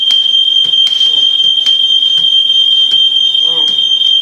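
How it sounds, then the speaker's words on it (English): A smoke detector shrills nonstop through a home brewing session, one steady piercing electronic tone held for the whole stretch, loud and close, with brief bumps and clatter of activity beneath it. "And there's the smoke detector."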